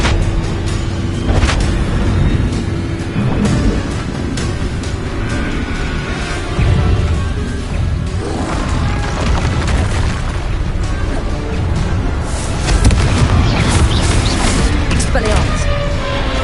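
Confringo fire spells explode in the Hogwarts Legacy video game, loud booming blasts and bursts repeating over a dense, rumbling battle din with a voice calling out spells.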